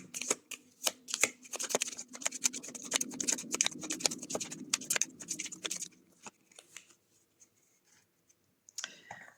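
Tarot cards shuffled for a card draw, a rapid run of crisp riffling flutters and slaps that continues for about six seconds, then a few soft scattered taps and handling noises before one last brief shuffle.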